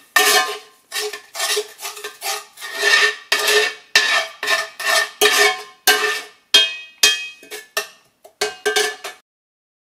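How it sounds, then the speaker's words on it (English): Red wine vinegar, bourbon and brown sugar being stirred into bacon jam in a pan, with rhythmic metallic scraping and clinking of a utensil against the pan over about ten seconds, close and clear with no talk. "Also adding in the brown sugar. Stir that all in."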